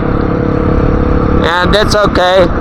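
A motorcycle engine drones steadily at speed on a Nevada road, then someone talks briefly over the continuous engine noise.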